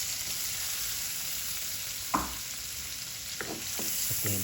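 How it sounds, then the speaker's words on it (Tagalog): Garlic sautés in butter in a pan, a steady close sizzle broken by a few scraping stir sounds near the end. "So we put the butter, then we're going to put garlic."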